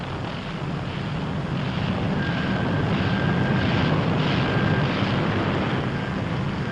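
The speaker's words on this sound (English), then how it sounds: "the first plane hauls her nose round into the wind." A WWII B-17 bomber taxis into the wind, its piston engines a steady, loud, droning roar that builds slightly and holds, with a faint whine and gusty wind noise.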